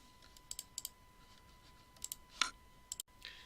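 Sparse, faint computer mouse clicks tick in small irregular clusters against a quiet background with a steady low hum.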